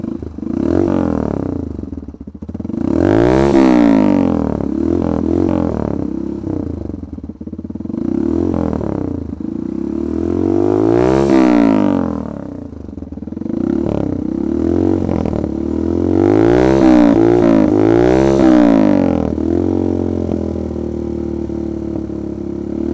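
A Yamaha YBR motorcycle fitted with an SC Project M4 exhaust revs repeatedly, close up and loud. Several deep throttle blips rise and fall in waves, with a lumpy idle between them.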